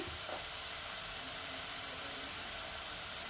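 Aar fish frying in a pan over a low gas flame makes a continuous, even sizzle and hiss, close and steady for the whole moment.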